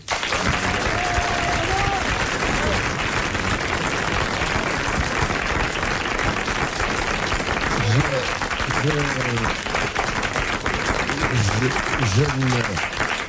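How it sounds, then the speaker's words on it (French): Sustained applause from a large television studio audience in 1983 fills the room, with voices calling out over the dense clapping. "Vous auriez pu applaudir plus fort malgré tout"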